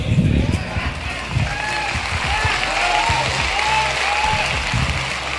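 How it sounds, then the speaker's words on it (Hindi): Listeners at a motivational speech clap together, a moderate, continuous round of applause with some low thumps and a voice faintly underneath. "ताली वाली बजा देना"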